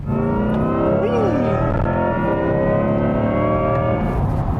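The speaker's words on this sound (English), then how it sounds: "I enjoy a muscular V8 sound, but this one just sounds kind of potato, potato" A hybrid sports car's V8 engine drones steadily at high revs, a thick layered rumble that holds constant for several seconds, loud and close.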